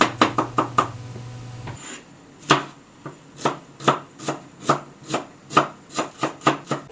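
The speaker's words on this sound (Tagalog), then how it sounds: "Maghiwa lang tayo ng bawang at sibuyas" Garlic and onion are chopped on a cutting board for pancit palabok, with a rapid run of knife knocks followed by slower, evenly spaced sharp chops, close up and without speech.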